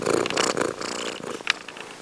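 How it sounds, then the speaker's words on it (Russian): A house cat lying on a bed purrs steadily and close, a soft continuous rumble with a few brief rustles, no talking over it. "И мурлыкает, да."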